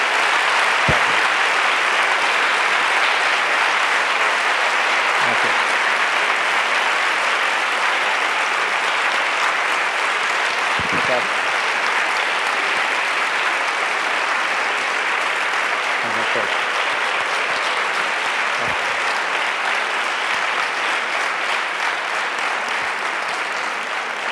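A conference audience at a healthy-eating congress gives a long, dense round of applause that keeps up evenly for over twenty seconds, loud and filling the hall, with a few faint low thumps underneath.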